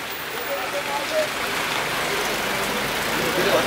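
Steady rain falling on the way back from Kawasan Falls, a constant dense wash of noise throughout with a voice briefly audible beneath it.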